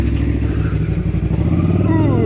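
Honda CX500 street motorcycle built in a garage, ridden on a dirt harescramble course, its engine droning loud and close with a steady rumble that rises in pitch near the end.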